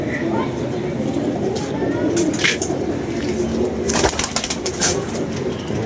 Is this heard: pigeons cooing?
yes